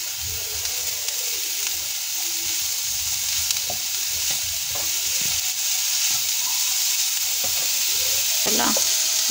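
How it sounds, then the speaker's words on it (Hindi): Tinda (round gourd) pulp and masala sizzling steadily in a pan for tinda kebabs, with a spoon scraping and stirring in scattered strokes, close and continuous with no talking. "इसको हम कम से कम 5 मिनट तक के लिए अच्छे से भूनेंगे।"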